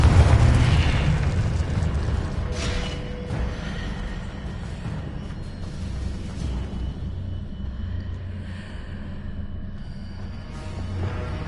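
Confringo blasting spell explodes in Hogwarts Legacy with a loud burst up front, then a long rumbling boom that fades slowly beneath steady game ambience, with no talking.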